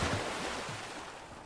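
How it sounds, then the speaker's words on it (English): Water splashing and rushing in the Fortnite video game as a character enters it, a loud, broad wash of noise that slowly eases off over a second and a half. "So glad the water's loud as fuck whenever you get into it."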